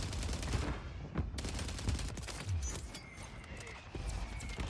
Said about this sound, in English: That guy's shooting at someone